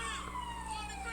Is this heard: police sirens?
yes